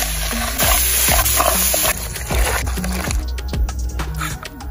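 Curry powder sizzles and fries hard in a pot as the base for curry crab, a loud crackling hiss with repeated scraping stirs of a utensil against the pot.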